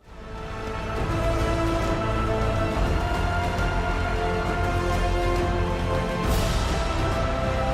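A heroic film music cue swells in quickly into a loud, dense, full-orchestra passage, sustained and bright, with a cymbal-like flare near the end.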